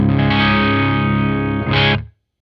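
Schecter Sunset Triad 6 electric guitar on its bridge humbucker, heavily distorted: one loud, sustained chord rings out, then a second quick strum hits just before everything cuts to silence.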